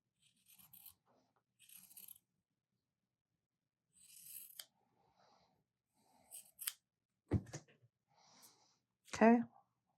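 Scissors snip sharply through quilting fabric while cutting out a snowman piece, giving a handful of separate crisp snips spread across the stretch with near-silent gaps between them, close and fairly quiet.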